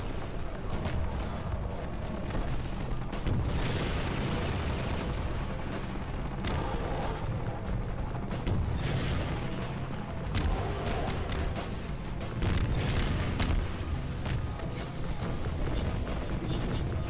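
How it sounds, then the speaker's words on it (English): Rocket blasts and gunfire in the shooter game Half-Life 2 keep up a dense, loud, continuous roar of booms and crashes, with a voice talking over parts of the din. "I could keep shooting at my rockets."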